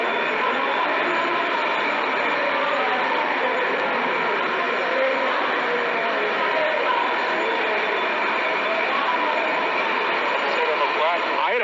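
An Azul Linhas Aéreas airliner lines up on runway 4 for takeoff at Fortaleza airport, its engines giving a steady, loud, broadband roar throughout, with radio-style talk over the top.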